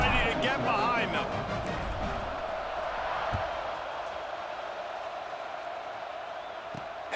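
A football stadium crowd roars steadily before kickoff at a Bayou Bengals game. The broad, sustained noise is loudest at the start and eases slightly, with commentary running over it.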